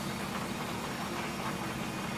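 A farm tractor runs steadily while pulling a seed sower, its engine giving a continuous low, even drone close by with no talk.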